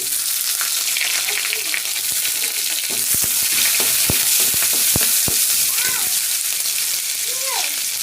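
Chilies, garlic cloves and onions fry in a pan for a lentil dish, a steady loud sizzle throughout with sharp pops and crackles and occasional stirring, no voices.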